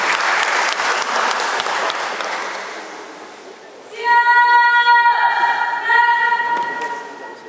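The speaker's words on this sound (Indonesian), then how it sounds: "kita tepuk tangan, berikan aplaus kepada adik-adik semua." Audience applause for a flag-raising troop at its inauguration ceremony in Tomohon rolls for about four seconds, then fades as sustained tonal music begins.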